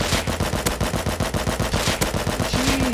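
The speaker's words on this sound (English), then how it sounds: "let's go first with old reliable." Fully automatic AK-47 fire in the Rust video game, a loud, rapid, unbroken burst of shots lasting nearly three seconds, heard up close with no talking over it.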